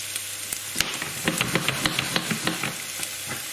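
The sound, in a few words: onions frying in oil in a pan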